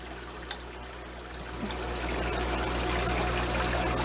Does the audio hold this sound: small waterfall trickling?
yes